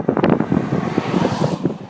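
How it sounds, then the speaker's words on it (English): Gusty wind buffeting a microphone near Mount Hood and the White River, a loud, close, uneven roar with rapid pulsing bursts. "Kind of windy right now."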